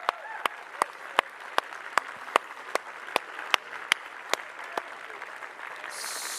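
A conference audience claps for the speakers at the closing address of PyCon AU 2024. The claps come in slow, steady unison beats, about a dozen sharp evenly spaced hits over a quiet room background.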